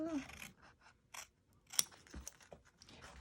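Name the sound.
applique scissors cutting fabric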